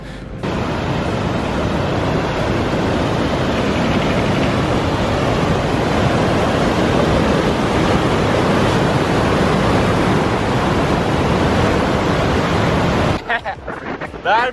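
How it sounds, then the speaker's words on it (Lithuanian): Strong wind roars across the microphone of a cyclist riding at night beside a river after leaving a small wood, a continuous loud rushing buffet that cuts out abruptly near the end. "Vėjas pakilo"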